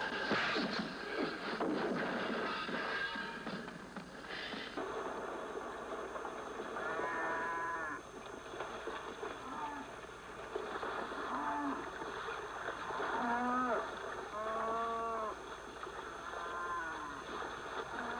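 Several cows moo at a moderate distance, their low drawn-out calls repeating through steady outdoor background noise.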